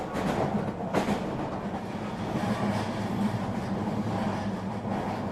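A train running in Bangkok, a steady rumbling roll with faint clattering and a brief knock near the start, heard from aboard or close by with no talking.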